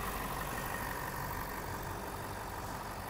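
A 2020 Ford F-350 Super Duty Lariat's 6.7 liter Power Stroke diesel V8 idles steadily with the hood open, a constant rumbling drone with no change across the short stretch and no voices.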